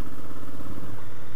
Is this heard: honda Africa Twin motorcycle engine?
yes